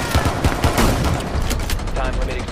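Shotgun blasts ring out in a Rainbow Six Siege match, a rapid run of loud, booming bursts close by that crowd the whole moment, with players' voices faintly mixed in.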